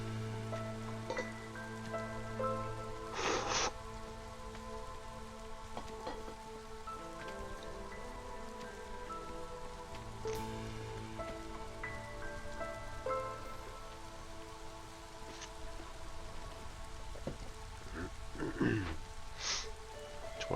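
Light drizzle falling in the video game Against the Storm, a steady soft patter across the whole stretch with tonal game music and occasional brief clicks and thuds layered on top.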